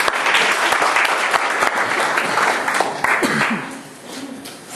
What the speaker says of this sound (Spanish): dándole un fuerte aplauso al Señor Jesús